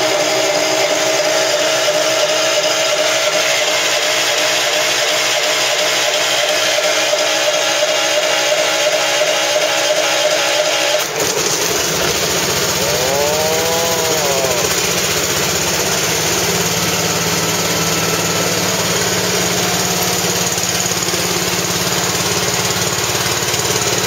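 A Deutz-Allis 6-6-10 tractor starts cold: a rough, loud cranking and chugging that shifts abruptly into a steady, dense engine roar that keeps running.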